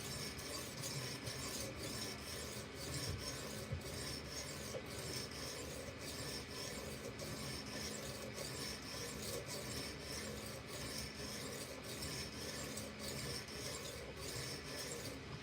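A knife is drawn repeatedly across a PDT sharpening stone in a steady, rapid rasping rhythm, each stroke a soft gritty scrape, close and quiet with no voices.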